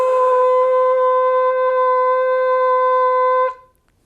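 A shofar sounds a single long, sustained tkiyah blast lasting about three and a half seconds, a loud, steady, brassy tone that holds evenly before fading out at the end.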